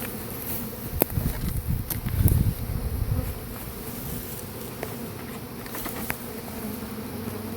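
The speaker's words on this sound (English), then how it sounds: "That's a lot of bees." A dense swarm of honeybees from an opened beehive buzzes steadily and close, with a few sharp knocks and handling bumps mixed in.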